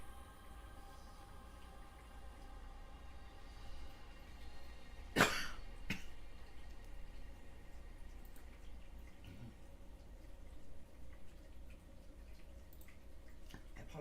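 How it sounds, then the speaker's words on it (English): A single sharp cough breaks an otherwise quiet indoor room during a tarot reading, with a fainter follow-up catch of the throat right after it and low background hiss before and after. "I apologise for all the coughing."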